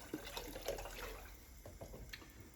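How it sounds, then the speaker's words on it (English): 32 ounces of chicken stock pours into a pot in a home kitchen, a faint liquid splash and gurgle with small splatters, brief and quiet. "So you add 32 ounces of chicken stock,"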